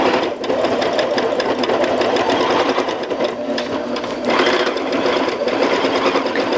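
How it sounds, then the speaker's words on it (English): A sewing machine runs a basting stitch along the edge of a fabric-panel lap quilt, its rapid, even mechanical chatter loud and close without a break. "So I'm going to hit start, and you can hear it's stitching."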